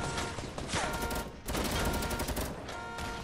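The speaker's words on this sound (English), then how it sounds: "Diego, let me shoot grenade launchers in here." Grenade launcher fire in a video game, dense rapid bursts of blasts and gunfire filling the whole stretch loudly, with a short dip in the middle before the barrage resumes.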